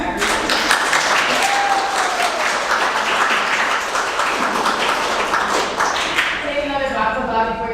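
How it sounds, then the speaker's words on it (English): Audience applause after a night of farm plan presentations: dense, sustained clapping from a sizeable crowd, with voices and a brief whistle mixed in, tapering off near the end. "I think we should do one more round of applause for everyone."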